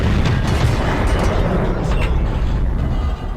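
A tank's ammo rack detonates in World of Tanks, a loud, dense booming blast that roars continuously for a few seconds with no speech.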